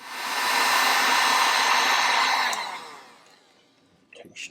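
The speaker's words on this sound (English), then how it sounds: "I may use the heat gun to heat up the plastic a little bit to make it easier to cut." A heat gun blows steadily to warm plastic before cutting while installing a Diode Dynamics multicolor LED board. A loud, even airy roar holds for about three seconds, then winds down, followed by a few faint handling sounds.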